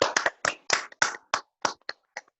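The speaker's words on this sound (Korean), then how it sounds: "감사의 박수 하겠습니다" A handful of people at a Bible study seminar clap in thanks, about a dozen distinct crisp claps that start close together and thin out, ending in a few isolated slaps with silence between.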